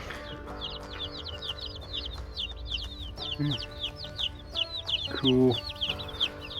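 Young Easter Egger chicks in a brooder give soft, rapid high chirps and clucks throughout, with a few louder calls near the end and a brief spoken word.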